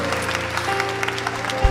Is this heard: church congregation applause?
yes